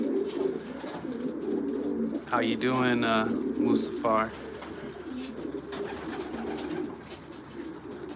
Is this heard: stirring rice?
no